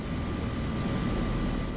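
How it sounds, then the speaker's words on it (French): The Dragon 63 civil security rescue helicopter in Puy-de-Dôme, arriving at an accident scene, makes a steady, unbroken engine drone with a constant level throughout. "En quelques minutes, l'hélicoptère de la sécurité civile est déjà sur les lieux de l'accident."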